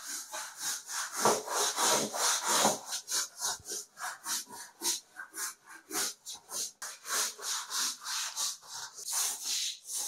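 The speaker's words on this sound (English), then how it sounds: "So let's see how the scrubbing works." An Agaro microfiber mop's scrubbing brush scrubs floor tiles in quick, rhythmic back-and-forth strokes. The rasping swishes are close and continuous.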